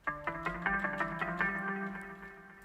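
A short run of plucked, harmonically rich notes through FL Studio stock EQ, hardcore and overdrive effects, with an overdriven tone and a little echo, played alone at moderate level.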